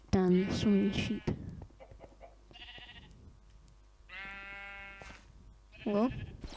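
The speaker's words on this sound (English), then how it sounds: "Damn, there's so many sheep." Several sheep in Minecraft bleat loudly and close by in quick, wavering cries, with quieter stretches of game ambience between bursts.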